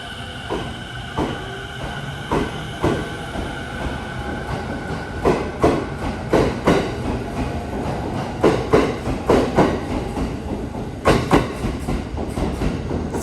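A JR East train pulls out of Narita station, heard from the platform: a low rolling rumble with repeated sharp clacks of wheels over rail joints, growing denser and louder over several seconds.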